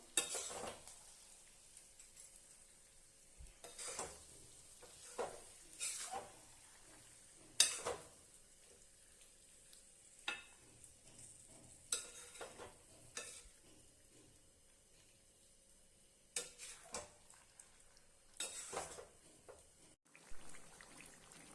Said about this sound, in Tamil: ஸ்டவ்வை ரொம்ப ரொம்ப லோ ஃப்ளேமில் வச்சு 2-3 அப்படியே கிளறி பாருங்கள்.